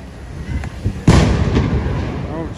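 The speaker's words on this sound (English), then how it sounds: "A lot of fireworks here, so who knows if this was triggered by a firework." A sharp, booming blast cuts through steady background noise, followed by a rumbling echo; a firework bursting close by at the scene of a second-alarm fire on West 167th Street, New York City.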